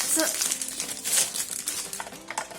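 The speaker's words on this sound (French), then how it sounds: "Je suis obligée de prendre les ciseaux parce que je n'arrive plus à ouvrir les sachets avec les doigts." Plastic candy packets from a monthly candy subscription box crinkle and rustle close by as scissors cut them open, a busy crackling texture with a few brief sharp snips.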